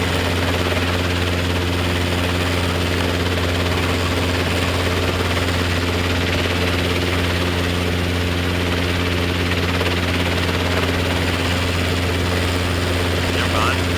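A Robinson R22 helicopter taxiing holds a loud, steady rotor and engine drone from inside the cabin throughout, with muffled voices underneath.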